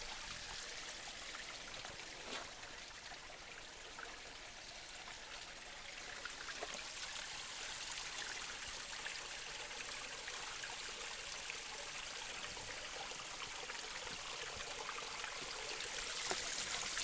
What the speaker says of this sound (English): See a little waterfall right here.